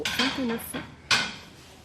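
Small handled dishes from the Inari range being handled and set down, giving a few sharp ceramic clinks and knocks spread over about two seconds, close and fairly loud with a short ringing tail.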